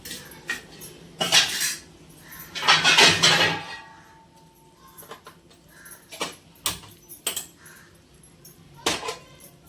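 Metal cookware clanks and scrapes as a heavy iron dosa griddle is set down and shifted on a stove, with several sharp knocks and clatters close by.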